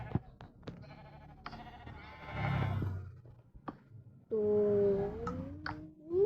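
Sheep in a video game bleat several times, short wavering cries with a longer drawn-out bleat near the end, heard alone against a quiet background with scattered soft clicks.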